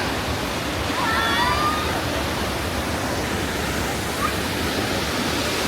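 Aw-asen Falls in Sigay, Ilocos Sur, roars as a steady, broad rush of falling water that fills the whole scene, with faint voices and a brief whistle-like call briefly audible above it.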